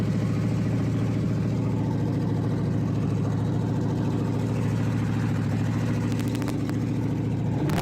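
A rebuilt 1991 GMC Sierra engine idles steadily with a loud, continuous low rumble and a slightly uneven pulse, running alone without any talk.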